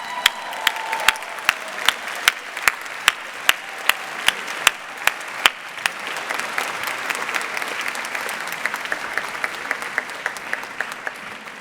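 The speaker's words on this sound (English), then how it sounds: "please turn around to your families and give them a big round of applause" A graduation ceremony audience at the American University of Paris gives families a round of applause. Sharp, distinct nearby claps ring out in a steady rhythm over a broad wash of crowd clapping, which thins toward the end.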